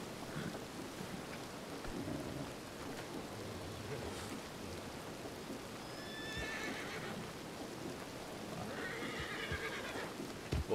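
An agitated horse whinnies in a western video game, shrill neighs rising around the middle and again near the end over steady rain and low rumbling thunder, with hoof clip-clop and no talk.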